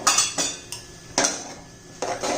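A spoon stirs egg rice in a pan with homemade masala, red chili powder, turmeric and coriander powder, giving a few irregular metallic scrapes and clinks against the pan, fairly close, with no talking.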